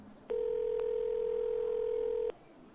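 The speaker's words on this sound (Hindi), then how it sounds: "उसका फोन बजा" A phone rings as a sound effect in a Hindi audio story: a single steady electronic tone lasting about two seconds, clean and moderately loud over a quiet background.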